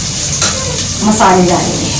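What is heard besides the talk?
onions frying in a pan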